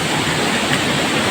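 Powerful rushing river water close to a waterfall pours in a thick, constant roar, loud and even throughout with no voices over it.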